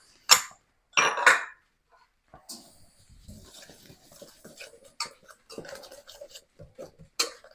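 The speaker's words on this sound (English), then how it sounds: "And we have to whisk all that together." Dry ingredients for keto biscuits, including baking powder and salt, being whisked together in a bowl, heard as quick, light scratchy clicking strokes close by after a few louder knocks.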